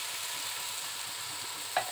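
Ground spices and dried chili powder frying in a pan in a village home kitchen, a soft continuous hiss with faint crackle and one brief clink near the end.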